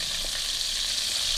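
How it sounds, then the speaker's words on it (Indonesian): Garlic and shallots sautéing in hot oil in a pan for nasi goreng, a steady close crackling sizzle heard alone. "ini kita tumis sampai wangi nih"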